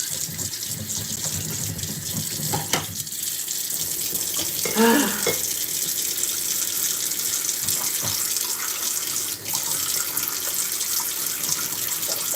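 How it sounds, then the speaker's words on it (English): A water tap runs steadily into a sink, a continuous splashing hiss with a brief gush partway through. "I love the sound of water. It's just so relaxing."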